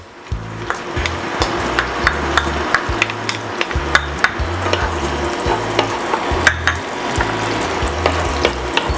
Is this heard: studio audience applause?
no